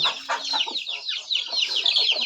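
Native country chickens clucking close by, a busy overlapping chorus of short repeated clucks and calls that continues without a break, loud and clear.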